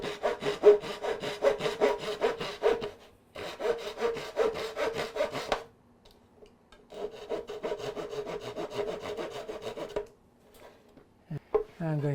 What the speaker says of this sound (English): normally I'd use a little back saw just to take off a little bit of that wood